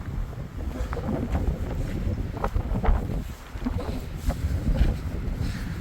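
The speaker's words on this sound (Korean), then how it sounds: "바람 겁나 불죠" Strong wind gusting outdoors in the hills near O Cebreiro, heard as steady, low buffeting rumble across the microphone throughout with no talk.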